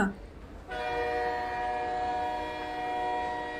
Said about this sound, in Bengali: ট্রেন ছেড়ে দেয় ধীরে ধীরে।